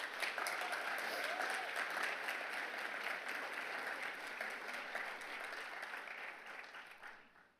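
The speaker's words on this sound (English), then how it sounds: "let's give a round of applause." Steady, dense applause from an audience at a university leadership awards ceremony, loud and continuous before tapering off at the end, with no talk over it.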